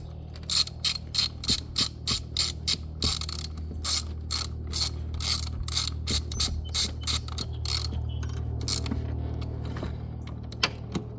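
A ratchet tightens the battery hold-down on a 2025 Jeep Wrangler 2.0, giving a close, quiet series of sharp rhythmic clicks in quick strokes with short pauses between them, and no speech.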